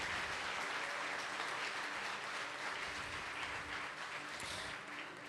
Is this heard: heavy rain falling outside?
no